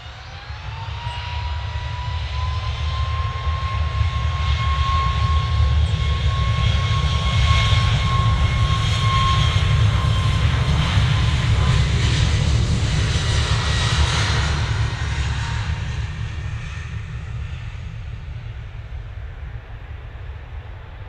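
Air Transat airliner engines at Manchester Airport build to a loud jet roar with a rising then falling high whine, swelling through the middle and fading toward the end, alone without talk.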